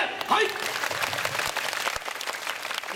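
Scattered clapping from an audience at a festival performance builds into steady applause, a broad crackling wash that holds throughout, with a voice briefly audible near the start.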